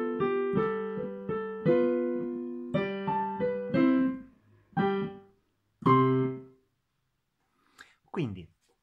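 Piano notes and chords played with both hands in a steady phrase from the last line of a whistling-themed exercise piece, clear and close, ending with a few sustained chords and a brief voice.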